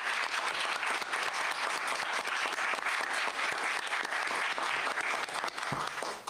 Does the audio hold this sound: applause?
yes